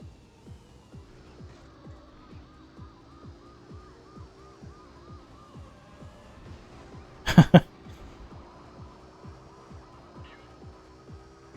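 A race car engine in Need for Speed III: Hot Pursuit on PC drones steadily with rhythmic revving pulses, broken once by a brief loud burst.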